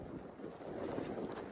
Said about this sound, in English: You can see how windy it is with a ripple on top of water.